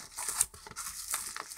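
Plastic packaging from a postbag item is torn open up close, with quick crinkling and tearing rustles in short bursts.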